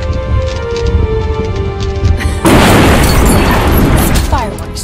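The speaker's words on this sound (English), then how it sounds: "Fireworks to keep them busy while I escape this cursed old city." Fireworks bursting in the video game Woolfe: The Red Hood Diaries, a sudden loud crackling burst of pops and booms that breaks in over musical score and continues densely to the end.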